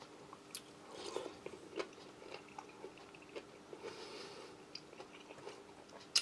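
Crunchy tinned pineapple in light syrup from a British Army 24-hour ration pack is chewed close up, with soft irregular bites, crunches and wet mouth sounds at low level and no talk.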